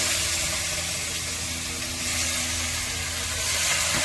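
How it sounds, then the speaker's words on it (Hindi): Onions frying in oil in a pan after bay leaf has gone in give off a steady, fairly loud sizzle and hiss throughout, with no talking. "प्याज को थोड़ा सा भूनते हैं"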